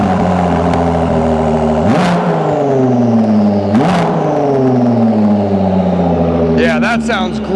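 A car engine with an aftermarket Quicksilver exhaust idles with a steady low rumble, then revs sharply twice, the pitch climbing and falling back each time, with brief voices near the end.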